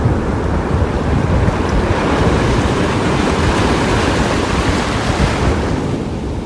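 Ocean surf washing steadily around someone wading knee-deep into the sea, a dense continuous roar of breaking waves with wind buffeting the microphone throughout.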